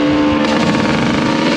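A Suzuki RM125 two-stroke dirt bike running on 87 octane revs at full throttle, a continuous loud buzzing engine wail held steady throughout.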